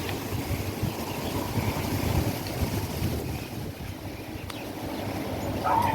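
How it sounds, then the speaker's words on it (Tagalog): Strong wind buffets the microphone outdoors among many trees, a steady broad roar that rises and falls slightly, heard alone. "Lakas ang hangin."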